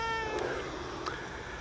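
A cat meows close by, a drawn-out, wavering cry at the start that fades away, set against a steady outdoor background hiss.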